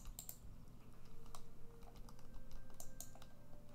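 Keyboard typing and clicking while playing Gothic Online, a run of light, quiet keystrokes at an irregular pace, with no talking over them.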